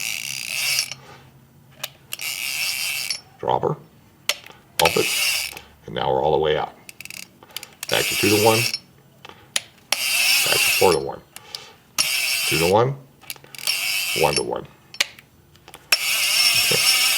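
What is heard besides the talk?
Avet fishing reel anti-reverse ratcheting while changing gears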